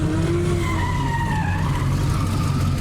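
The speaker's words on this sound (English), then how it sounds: "you're watching an F100 go sideways so easily and perfectly." A Ford F100 pickup fitted with a 370Z engine drifts sideways, its tyres squealing in a continuous loud skid over a low engine roar, with the squeal's pitch wavering as the slide goes on.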